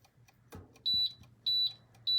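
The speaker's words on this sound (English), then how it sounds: "sorry, my oven's beeping" Three short, high-pitched electronic beeps at even intervals, each a sustained tone, with a few faint clicks between them in a quiet room.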